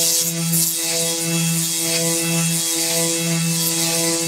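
A Bosch 12V orbital finishing sander works across a varnished board, giving a continuous buzzing hum with a steady pulsing rasp that rises and falls slightly in rhythm, close and fairly loud, with no talk.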